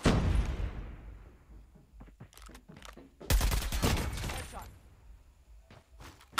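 Bursts of gunfire from the HVK in a video game, a sharp volley at the start and another loud rattling burst midway, mixed with in-game sounds and voices talking.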